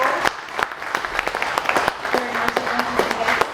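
Audience applause at a museum speaker series event, moderate clapping from a modest crowd at close range with some voices mixed in.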